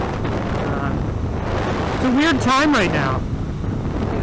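Steady broadband wind roar buffets the microphone on a moving motorcycle, loud and continuous throughout, with a voice talking over it in the middle.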